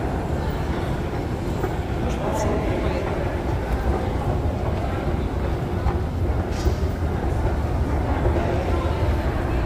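A train rumbles steadily through Toledo metro station in Naples, a deep and continuous roar filling the underground space for the whole stretch, with faint echoing station noise above it.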